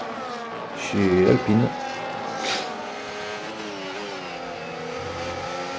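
A racing-game race car engine whines at high revs while overtaking on track, a continuous rising and falling tone, with someone speaking over it briefly.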